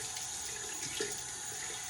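Water running steadily from a bathroom sink tap while a face is rinsed, a constant soft hiss with faint splashes, no talking.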